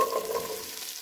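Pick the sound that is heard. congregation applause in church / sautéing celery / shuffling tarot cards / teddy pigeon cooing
sautéing celery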